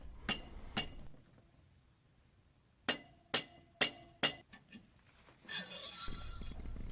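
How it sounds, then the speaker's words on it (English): A soft hammer raps sharply on the ferrules of a ZP3 pump body, a few isolated taps followed by a quick cluster of four, close and fairly quiet with some clinking resonance, then a faint rustle. "get a soft hammer and pry the body off by hitting the ferrules on the left and right in an alternating fashion"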